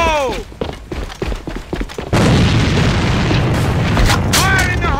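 A grenade blows up in a first-person shooter match, a loud booming blast at about two seconds followed by a sustained roar of rumbling debris, preceded by voices and game sounds.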